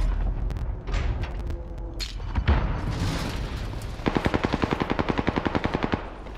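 Gunfire from a shooting video game: scattered single shots and short bursts, then a fast, steady machine-gun burst of evenly spaced loud reports in the last couple of seconds, with no talk over it.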